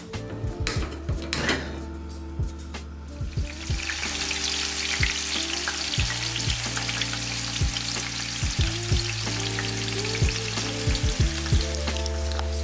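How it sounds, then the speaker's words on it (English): Truffle omelette frying in a pan, a close, continuous sizzle that swells as it goes, broken by clinks and knocks of pan and utensils while it is stirred. "We're going to make a truffle omelette."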